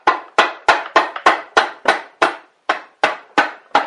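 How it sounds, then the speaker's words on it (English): A rubber mallet taps a crankcase cover onto a Briggs and Stratton Power Built 12.5 HP flathead Model 28 engine: about a dozen sharp, close knocks in a steady rhythm, with no talking. "You might want to take a rubber mallet here."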